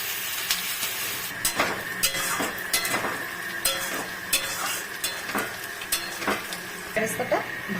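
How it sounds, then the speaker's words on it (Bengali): Onions fry in hot refined oil for a paneer biryani, giving a steady loud sizzle broken by regular scraping strokes roughly every half second as they are stirred. "রিফাইন তেল দিয়েছি এখন পেঁয়াজের বেরেস্তাটা ভেজে নিব তেল গরম হয়ে গেছে"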